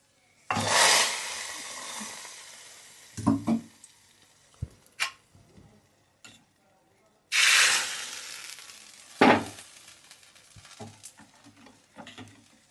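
Chilli, ginger and mint dropped into hot oil in a pan, giving bursts of loud sizzling hiss that fade, along with a few clinks and stirring sounds and quieter gaps between them.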